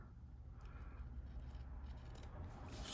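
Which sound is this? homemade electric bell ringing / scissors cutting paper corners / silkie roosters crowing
scissors cutting paper corners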